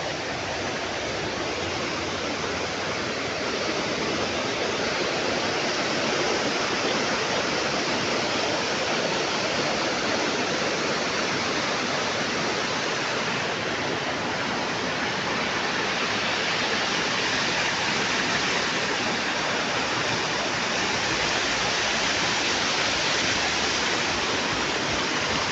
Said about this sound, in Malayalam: ഇവിടെ നിന്ന വെള്ളത്തിൻ്റെ ആ ഒരു ഒച്ച അല്ലാതെ വേറെ ഒന്നും കേൾക്കാനില്ല.